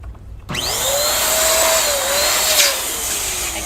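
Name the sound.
inflating black party balloons with a pump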